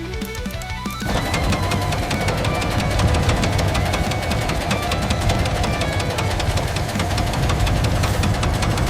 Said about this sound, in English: The engine stops dead, but that flywheel keeps the output singing.